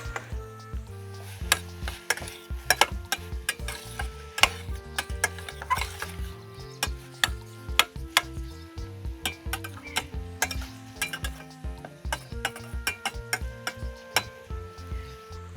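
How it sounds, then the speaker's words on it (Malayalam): Beef for Kerala-style beef pickle fries in a pan, with repeated clinking spoon-on-pan strikes and scraping stirs over a soft sizzle, close and steady throughout, no voices. "ഫ്രൈ ആക്കി എടുക്കാം."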